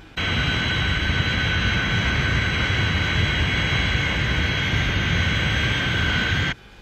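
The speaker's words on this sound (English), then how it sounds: "There she goes, through the sound barrier." The Fireflash jet airliner roars through the sound barrier as a loud, continuous jet rush with a high whine over it, then cuts off abruptly.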